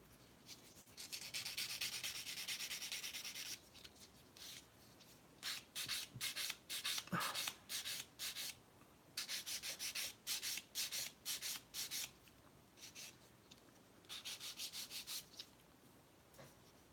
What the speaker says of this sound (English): I need to sand this side as well